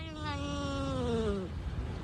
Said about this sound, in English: That's a cat from the deep south.